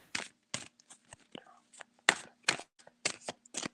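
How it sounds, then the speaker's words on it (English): Tarot cards being shuffled, giving a string of sharp riffling bursts in an uneven rhythm, close and fairly quiet, with a faint steady hum underneath. "Let me know if my shuffling gets too loud"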